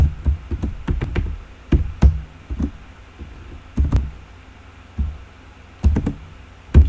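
Computer keyboard typing in irregular bursts of crisp taps and clacks, close and fairly loud, with short pauses between runs of keystrokes.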